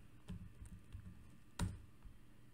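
Keystrokes on a computer keyboard while coding in Java, a few soft scattered taps with one sharper click partway through, faint and close against a quiet room.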